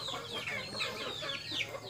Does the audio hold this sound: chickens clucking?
yes